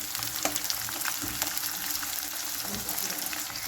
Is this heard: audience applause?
no